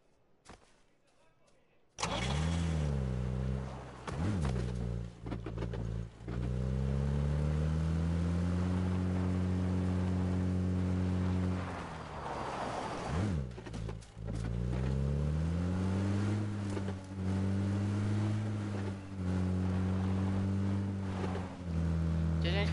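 Car engine in PUBG on PS4 rising and falling in pitch as it accelerates with turbo, a loud steady harmonic drone with several rev surges, under occasional talk.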